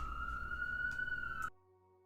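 An emergency siren holds a steady high wail for about a second and a half, then cuts off abruptly, leaving only a faint residual hum.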